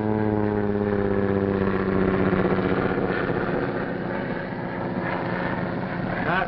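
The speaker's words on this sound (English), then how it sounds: "only Barton's plane" A propeller airplane drones steadily as it approaches in a 1940 island film, a loud continuous engine hum with strong low harmonics that holds for the whole stretch, alone without voices.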